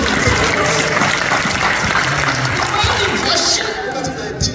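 A congregation at a Sunday church worship service claps loudly and steadily, a continuous wash of applause mixed with voices and crowd noise.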